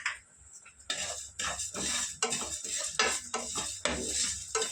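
About three spoons of sesame seeds tipped into a hot frying pan and stirred with a spoon, bursts of scraping, clinking and crackle in an uneven rhythm over a light sizzle.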